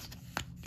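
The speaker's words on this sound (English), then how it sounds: "So I'm gonna shuffle these encounter cards." Encounter cards for a board game being shuffled by hand at close range, a quick riffle with one sharp papery burst in the middle and soft card rustles around it.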